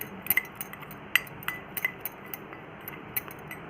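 Coriander powder and chaat masala being mixed in a bowl: light, irregular metallic clinks of a spoon against the bowl, spaced unevenly over a few seconds with soft scraping between them and no voices.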